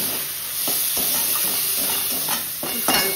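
Chopped tomato and green chili hit a pan of already fried onion with salt, giving a steady close hiss and sizzle with a few soft stirring scrapes, no voices.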